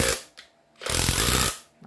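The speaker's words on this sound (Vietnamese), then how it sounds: "búa cơ thì tiếng nó gõ nghe nó đanh tai hơn" A mechanical-type cordless hammer drill hammers in two loud bursts, a harsh, sharp rattling that starts, stops briefly, then runs for nearly a second before winding down, close to the listener and without talk.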